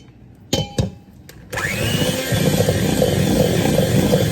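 An electric mixer whirs into vanilla cupcake batter as an egg is mixed in. Two sharp clicks come first, then the motor starts and runs as a steady close buzz to the end.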